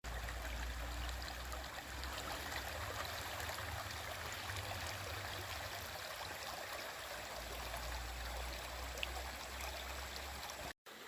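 A farm stream keeps flowing in an unbroken, quiet trickling and babbling, fairly distant and soft, with no voices, until a sudden brief dropout at the very end.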